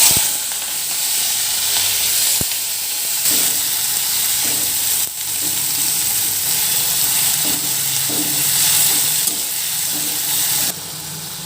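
Chopped vegetables sizzle steadily in hot oil in a pan for Maggi noodles, a dense continuous frying hiss with occasional scrapes and stirs, close and fairly loud with no talking.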